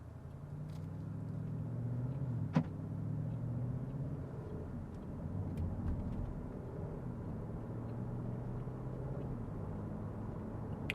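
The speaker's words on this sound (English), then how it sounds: "Certainly sounds like a new car still." A 2021 Porsche Cayenne GTS drives along, heard from inside as a low, steady engine and road rumble with a few faint clicks and ticks, fairly quiet and with no talking.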